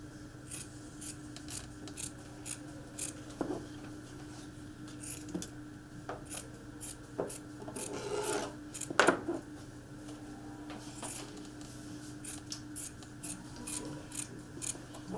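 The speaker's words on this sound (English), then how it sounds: "I'm going to start by just cutting strips all the way around, starting at the end." Scissors cutting strips all the way around a piece of material, with repeated close snips at an uneven pace and a short flurry of rustling handling midway.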